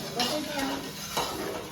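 A spatula stirs mawa (milk solids) roasting in a pan for adadiya, made late at night, giving close, busy scraping and clattering against the pan bottom with a faint sizzle underneath.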